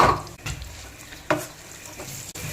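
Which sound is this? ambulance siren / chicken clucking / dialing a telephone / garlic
garlic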